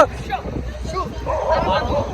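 A dog yips and barks in short bursts close by, mixed in with people talking.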